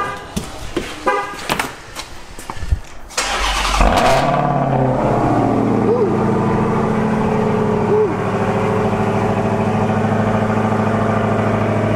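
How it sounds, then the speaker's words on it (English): A 2020 Dodge Charger widebody convertible fires up on a cold start: after a few seconds of clatter and handling noise, the engine catches with a loud burst and settles into a steady, deep, close idle with faint higher whines. "let me do a cold start"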